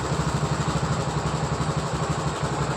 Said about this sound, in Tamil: ஃபைனலாக இந்த வண்டிக்கு நம்ம பம்பு சேஞ்ச் பண்ணிட்டோம். வண்டி ஸ்டார்ட் பண்ணி பார்ப்போம்.